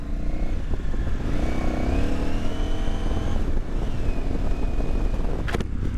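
A rally car with a slipping, failing clutch revs hard and steadily, its engine note rising and falling loudly and close with some mechanical clatter, no talk over it.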